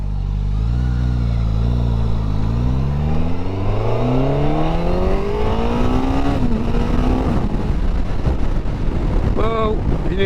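A Suzuki GSX1000 GT motorcycle accelerating hard on the road, engine pitch climbing steadily through the gears with heavy wind buffeting the microphone, loud and close throughout.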